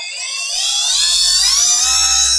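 A cordless mini car polisher runs alone up close, its small motor letting out a high, steady whine that climbs slightly in pitch as it spins up and then holds.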